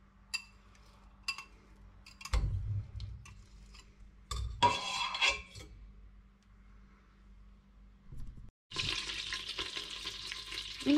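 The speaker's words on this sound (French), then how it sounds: "On commence par faire fondre le beurre" Butter melting in a pan for a béchamel for homemade lasagne: faint crackle and sizzle in bursts with clinks of a utensil, and a louder steady frying hiss near the end.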